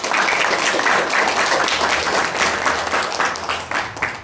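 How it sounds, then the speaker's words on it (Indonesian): Steady applause from an audience at an Islamic religious lecture, a dense wash of clapping that holds strongly and then begins tapering near the end. "Tepuk tangan."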